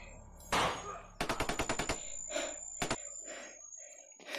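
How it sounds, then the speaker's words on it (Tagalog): Gunfire erupts up ahead, a sharp single shot followed by a rapid burst of automatic fire and a few scattered later shots, loud and close, with gasping breaths between them. "May putukan sa unahan."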